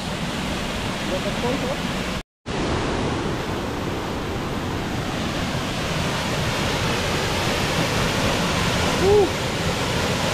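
Veto Falls on Mt. Kapigpiglatan pours in a constant roaring rush of water, loud and steady like heavy surf, briefly cut by a short dropout, with a faint voice near the end.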